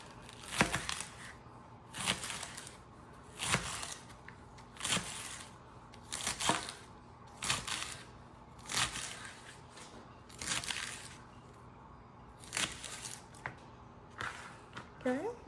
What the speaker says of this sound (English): we got the lettuce cut